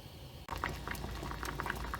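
Water in a pot on high heat for udon noodles, rolling boil bubbling and pattering steadily after a brief quieter start, close and continuous with no talking.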